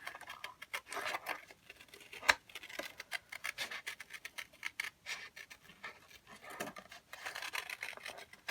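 Soft, close snipping and rustling as scissors cut detailed shapes from printed paper in repeated, irregular small cuts.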